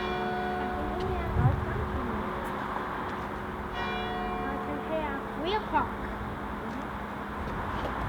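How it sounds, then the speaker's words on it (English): Bells ring steadily outside a school, a sustained tonal chime with overlapping harmonics that carries at a moderate level through the whole stretch while people talk nearby. "they are the quietest bells in the world"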